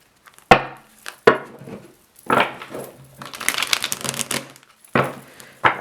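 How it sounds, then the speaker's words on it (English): A deck of cards is shuffled in several bursts: sharp riffle snaps and papery flutters, then a longer rustling riffle and a final snap, close and moderately loud with no talking. "One more shuffle."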